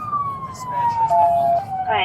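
A police car siren sounds during a traffic stop as the vehicle refuses to yield, a single wailing tone sliding steadily downward and then rising again near the end, with a brief spoken word over it.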